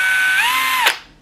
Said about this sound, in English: Tightening drill bits in the chuck is a little trickier with turning on the drill to help tighten the bit